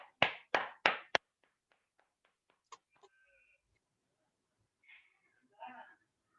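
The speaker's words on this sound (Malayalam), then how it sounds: "Big clap." Four quick, sharp hand claps from participants in an online class, close and clear, then near-silence with a few faint clicks and soft background sounds.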